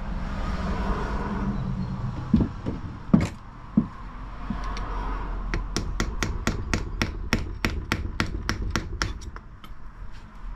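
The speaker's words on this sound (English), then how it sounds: "tap it with the hammer" A few scattered metallic taps give way to a rapid, steady run of sharp hammer strikes on an S10 pickup, about twenty evenly spaced blows over steady background noise.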